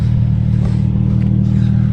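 A V8 Lexus IS F engine idles with a deep, steady rumble and an even low throb, loud and close, with faint clatter over the top.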